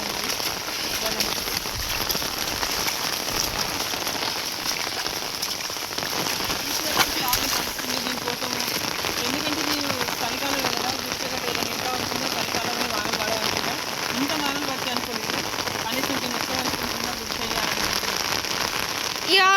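Heavy rain pours onto a flooded farm field, a steady, loud hiss of drops hitting water and surfaces that continues unbroken, with faint talking mixed underneath.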